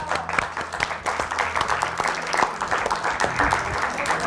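Studio audience of a cooking show applauding a stuffed white cabbage roll dish, a lively, fairly loud burst of individual claps with faint voices mixed in.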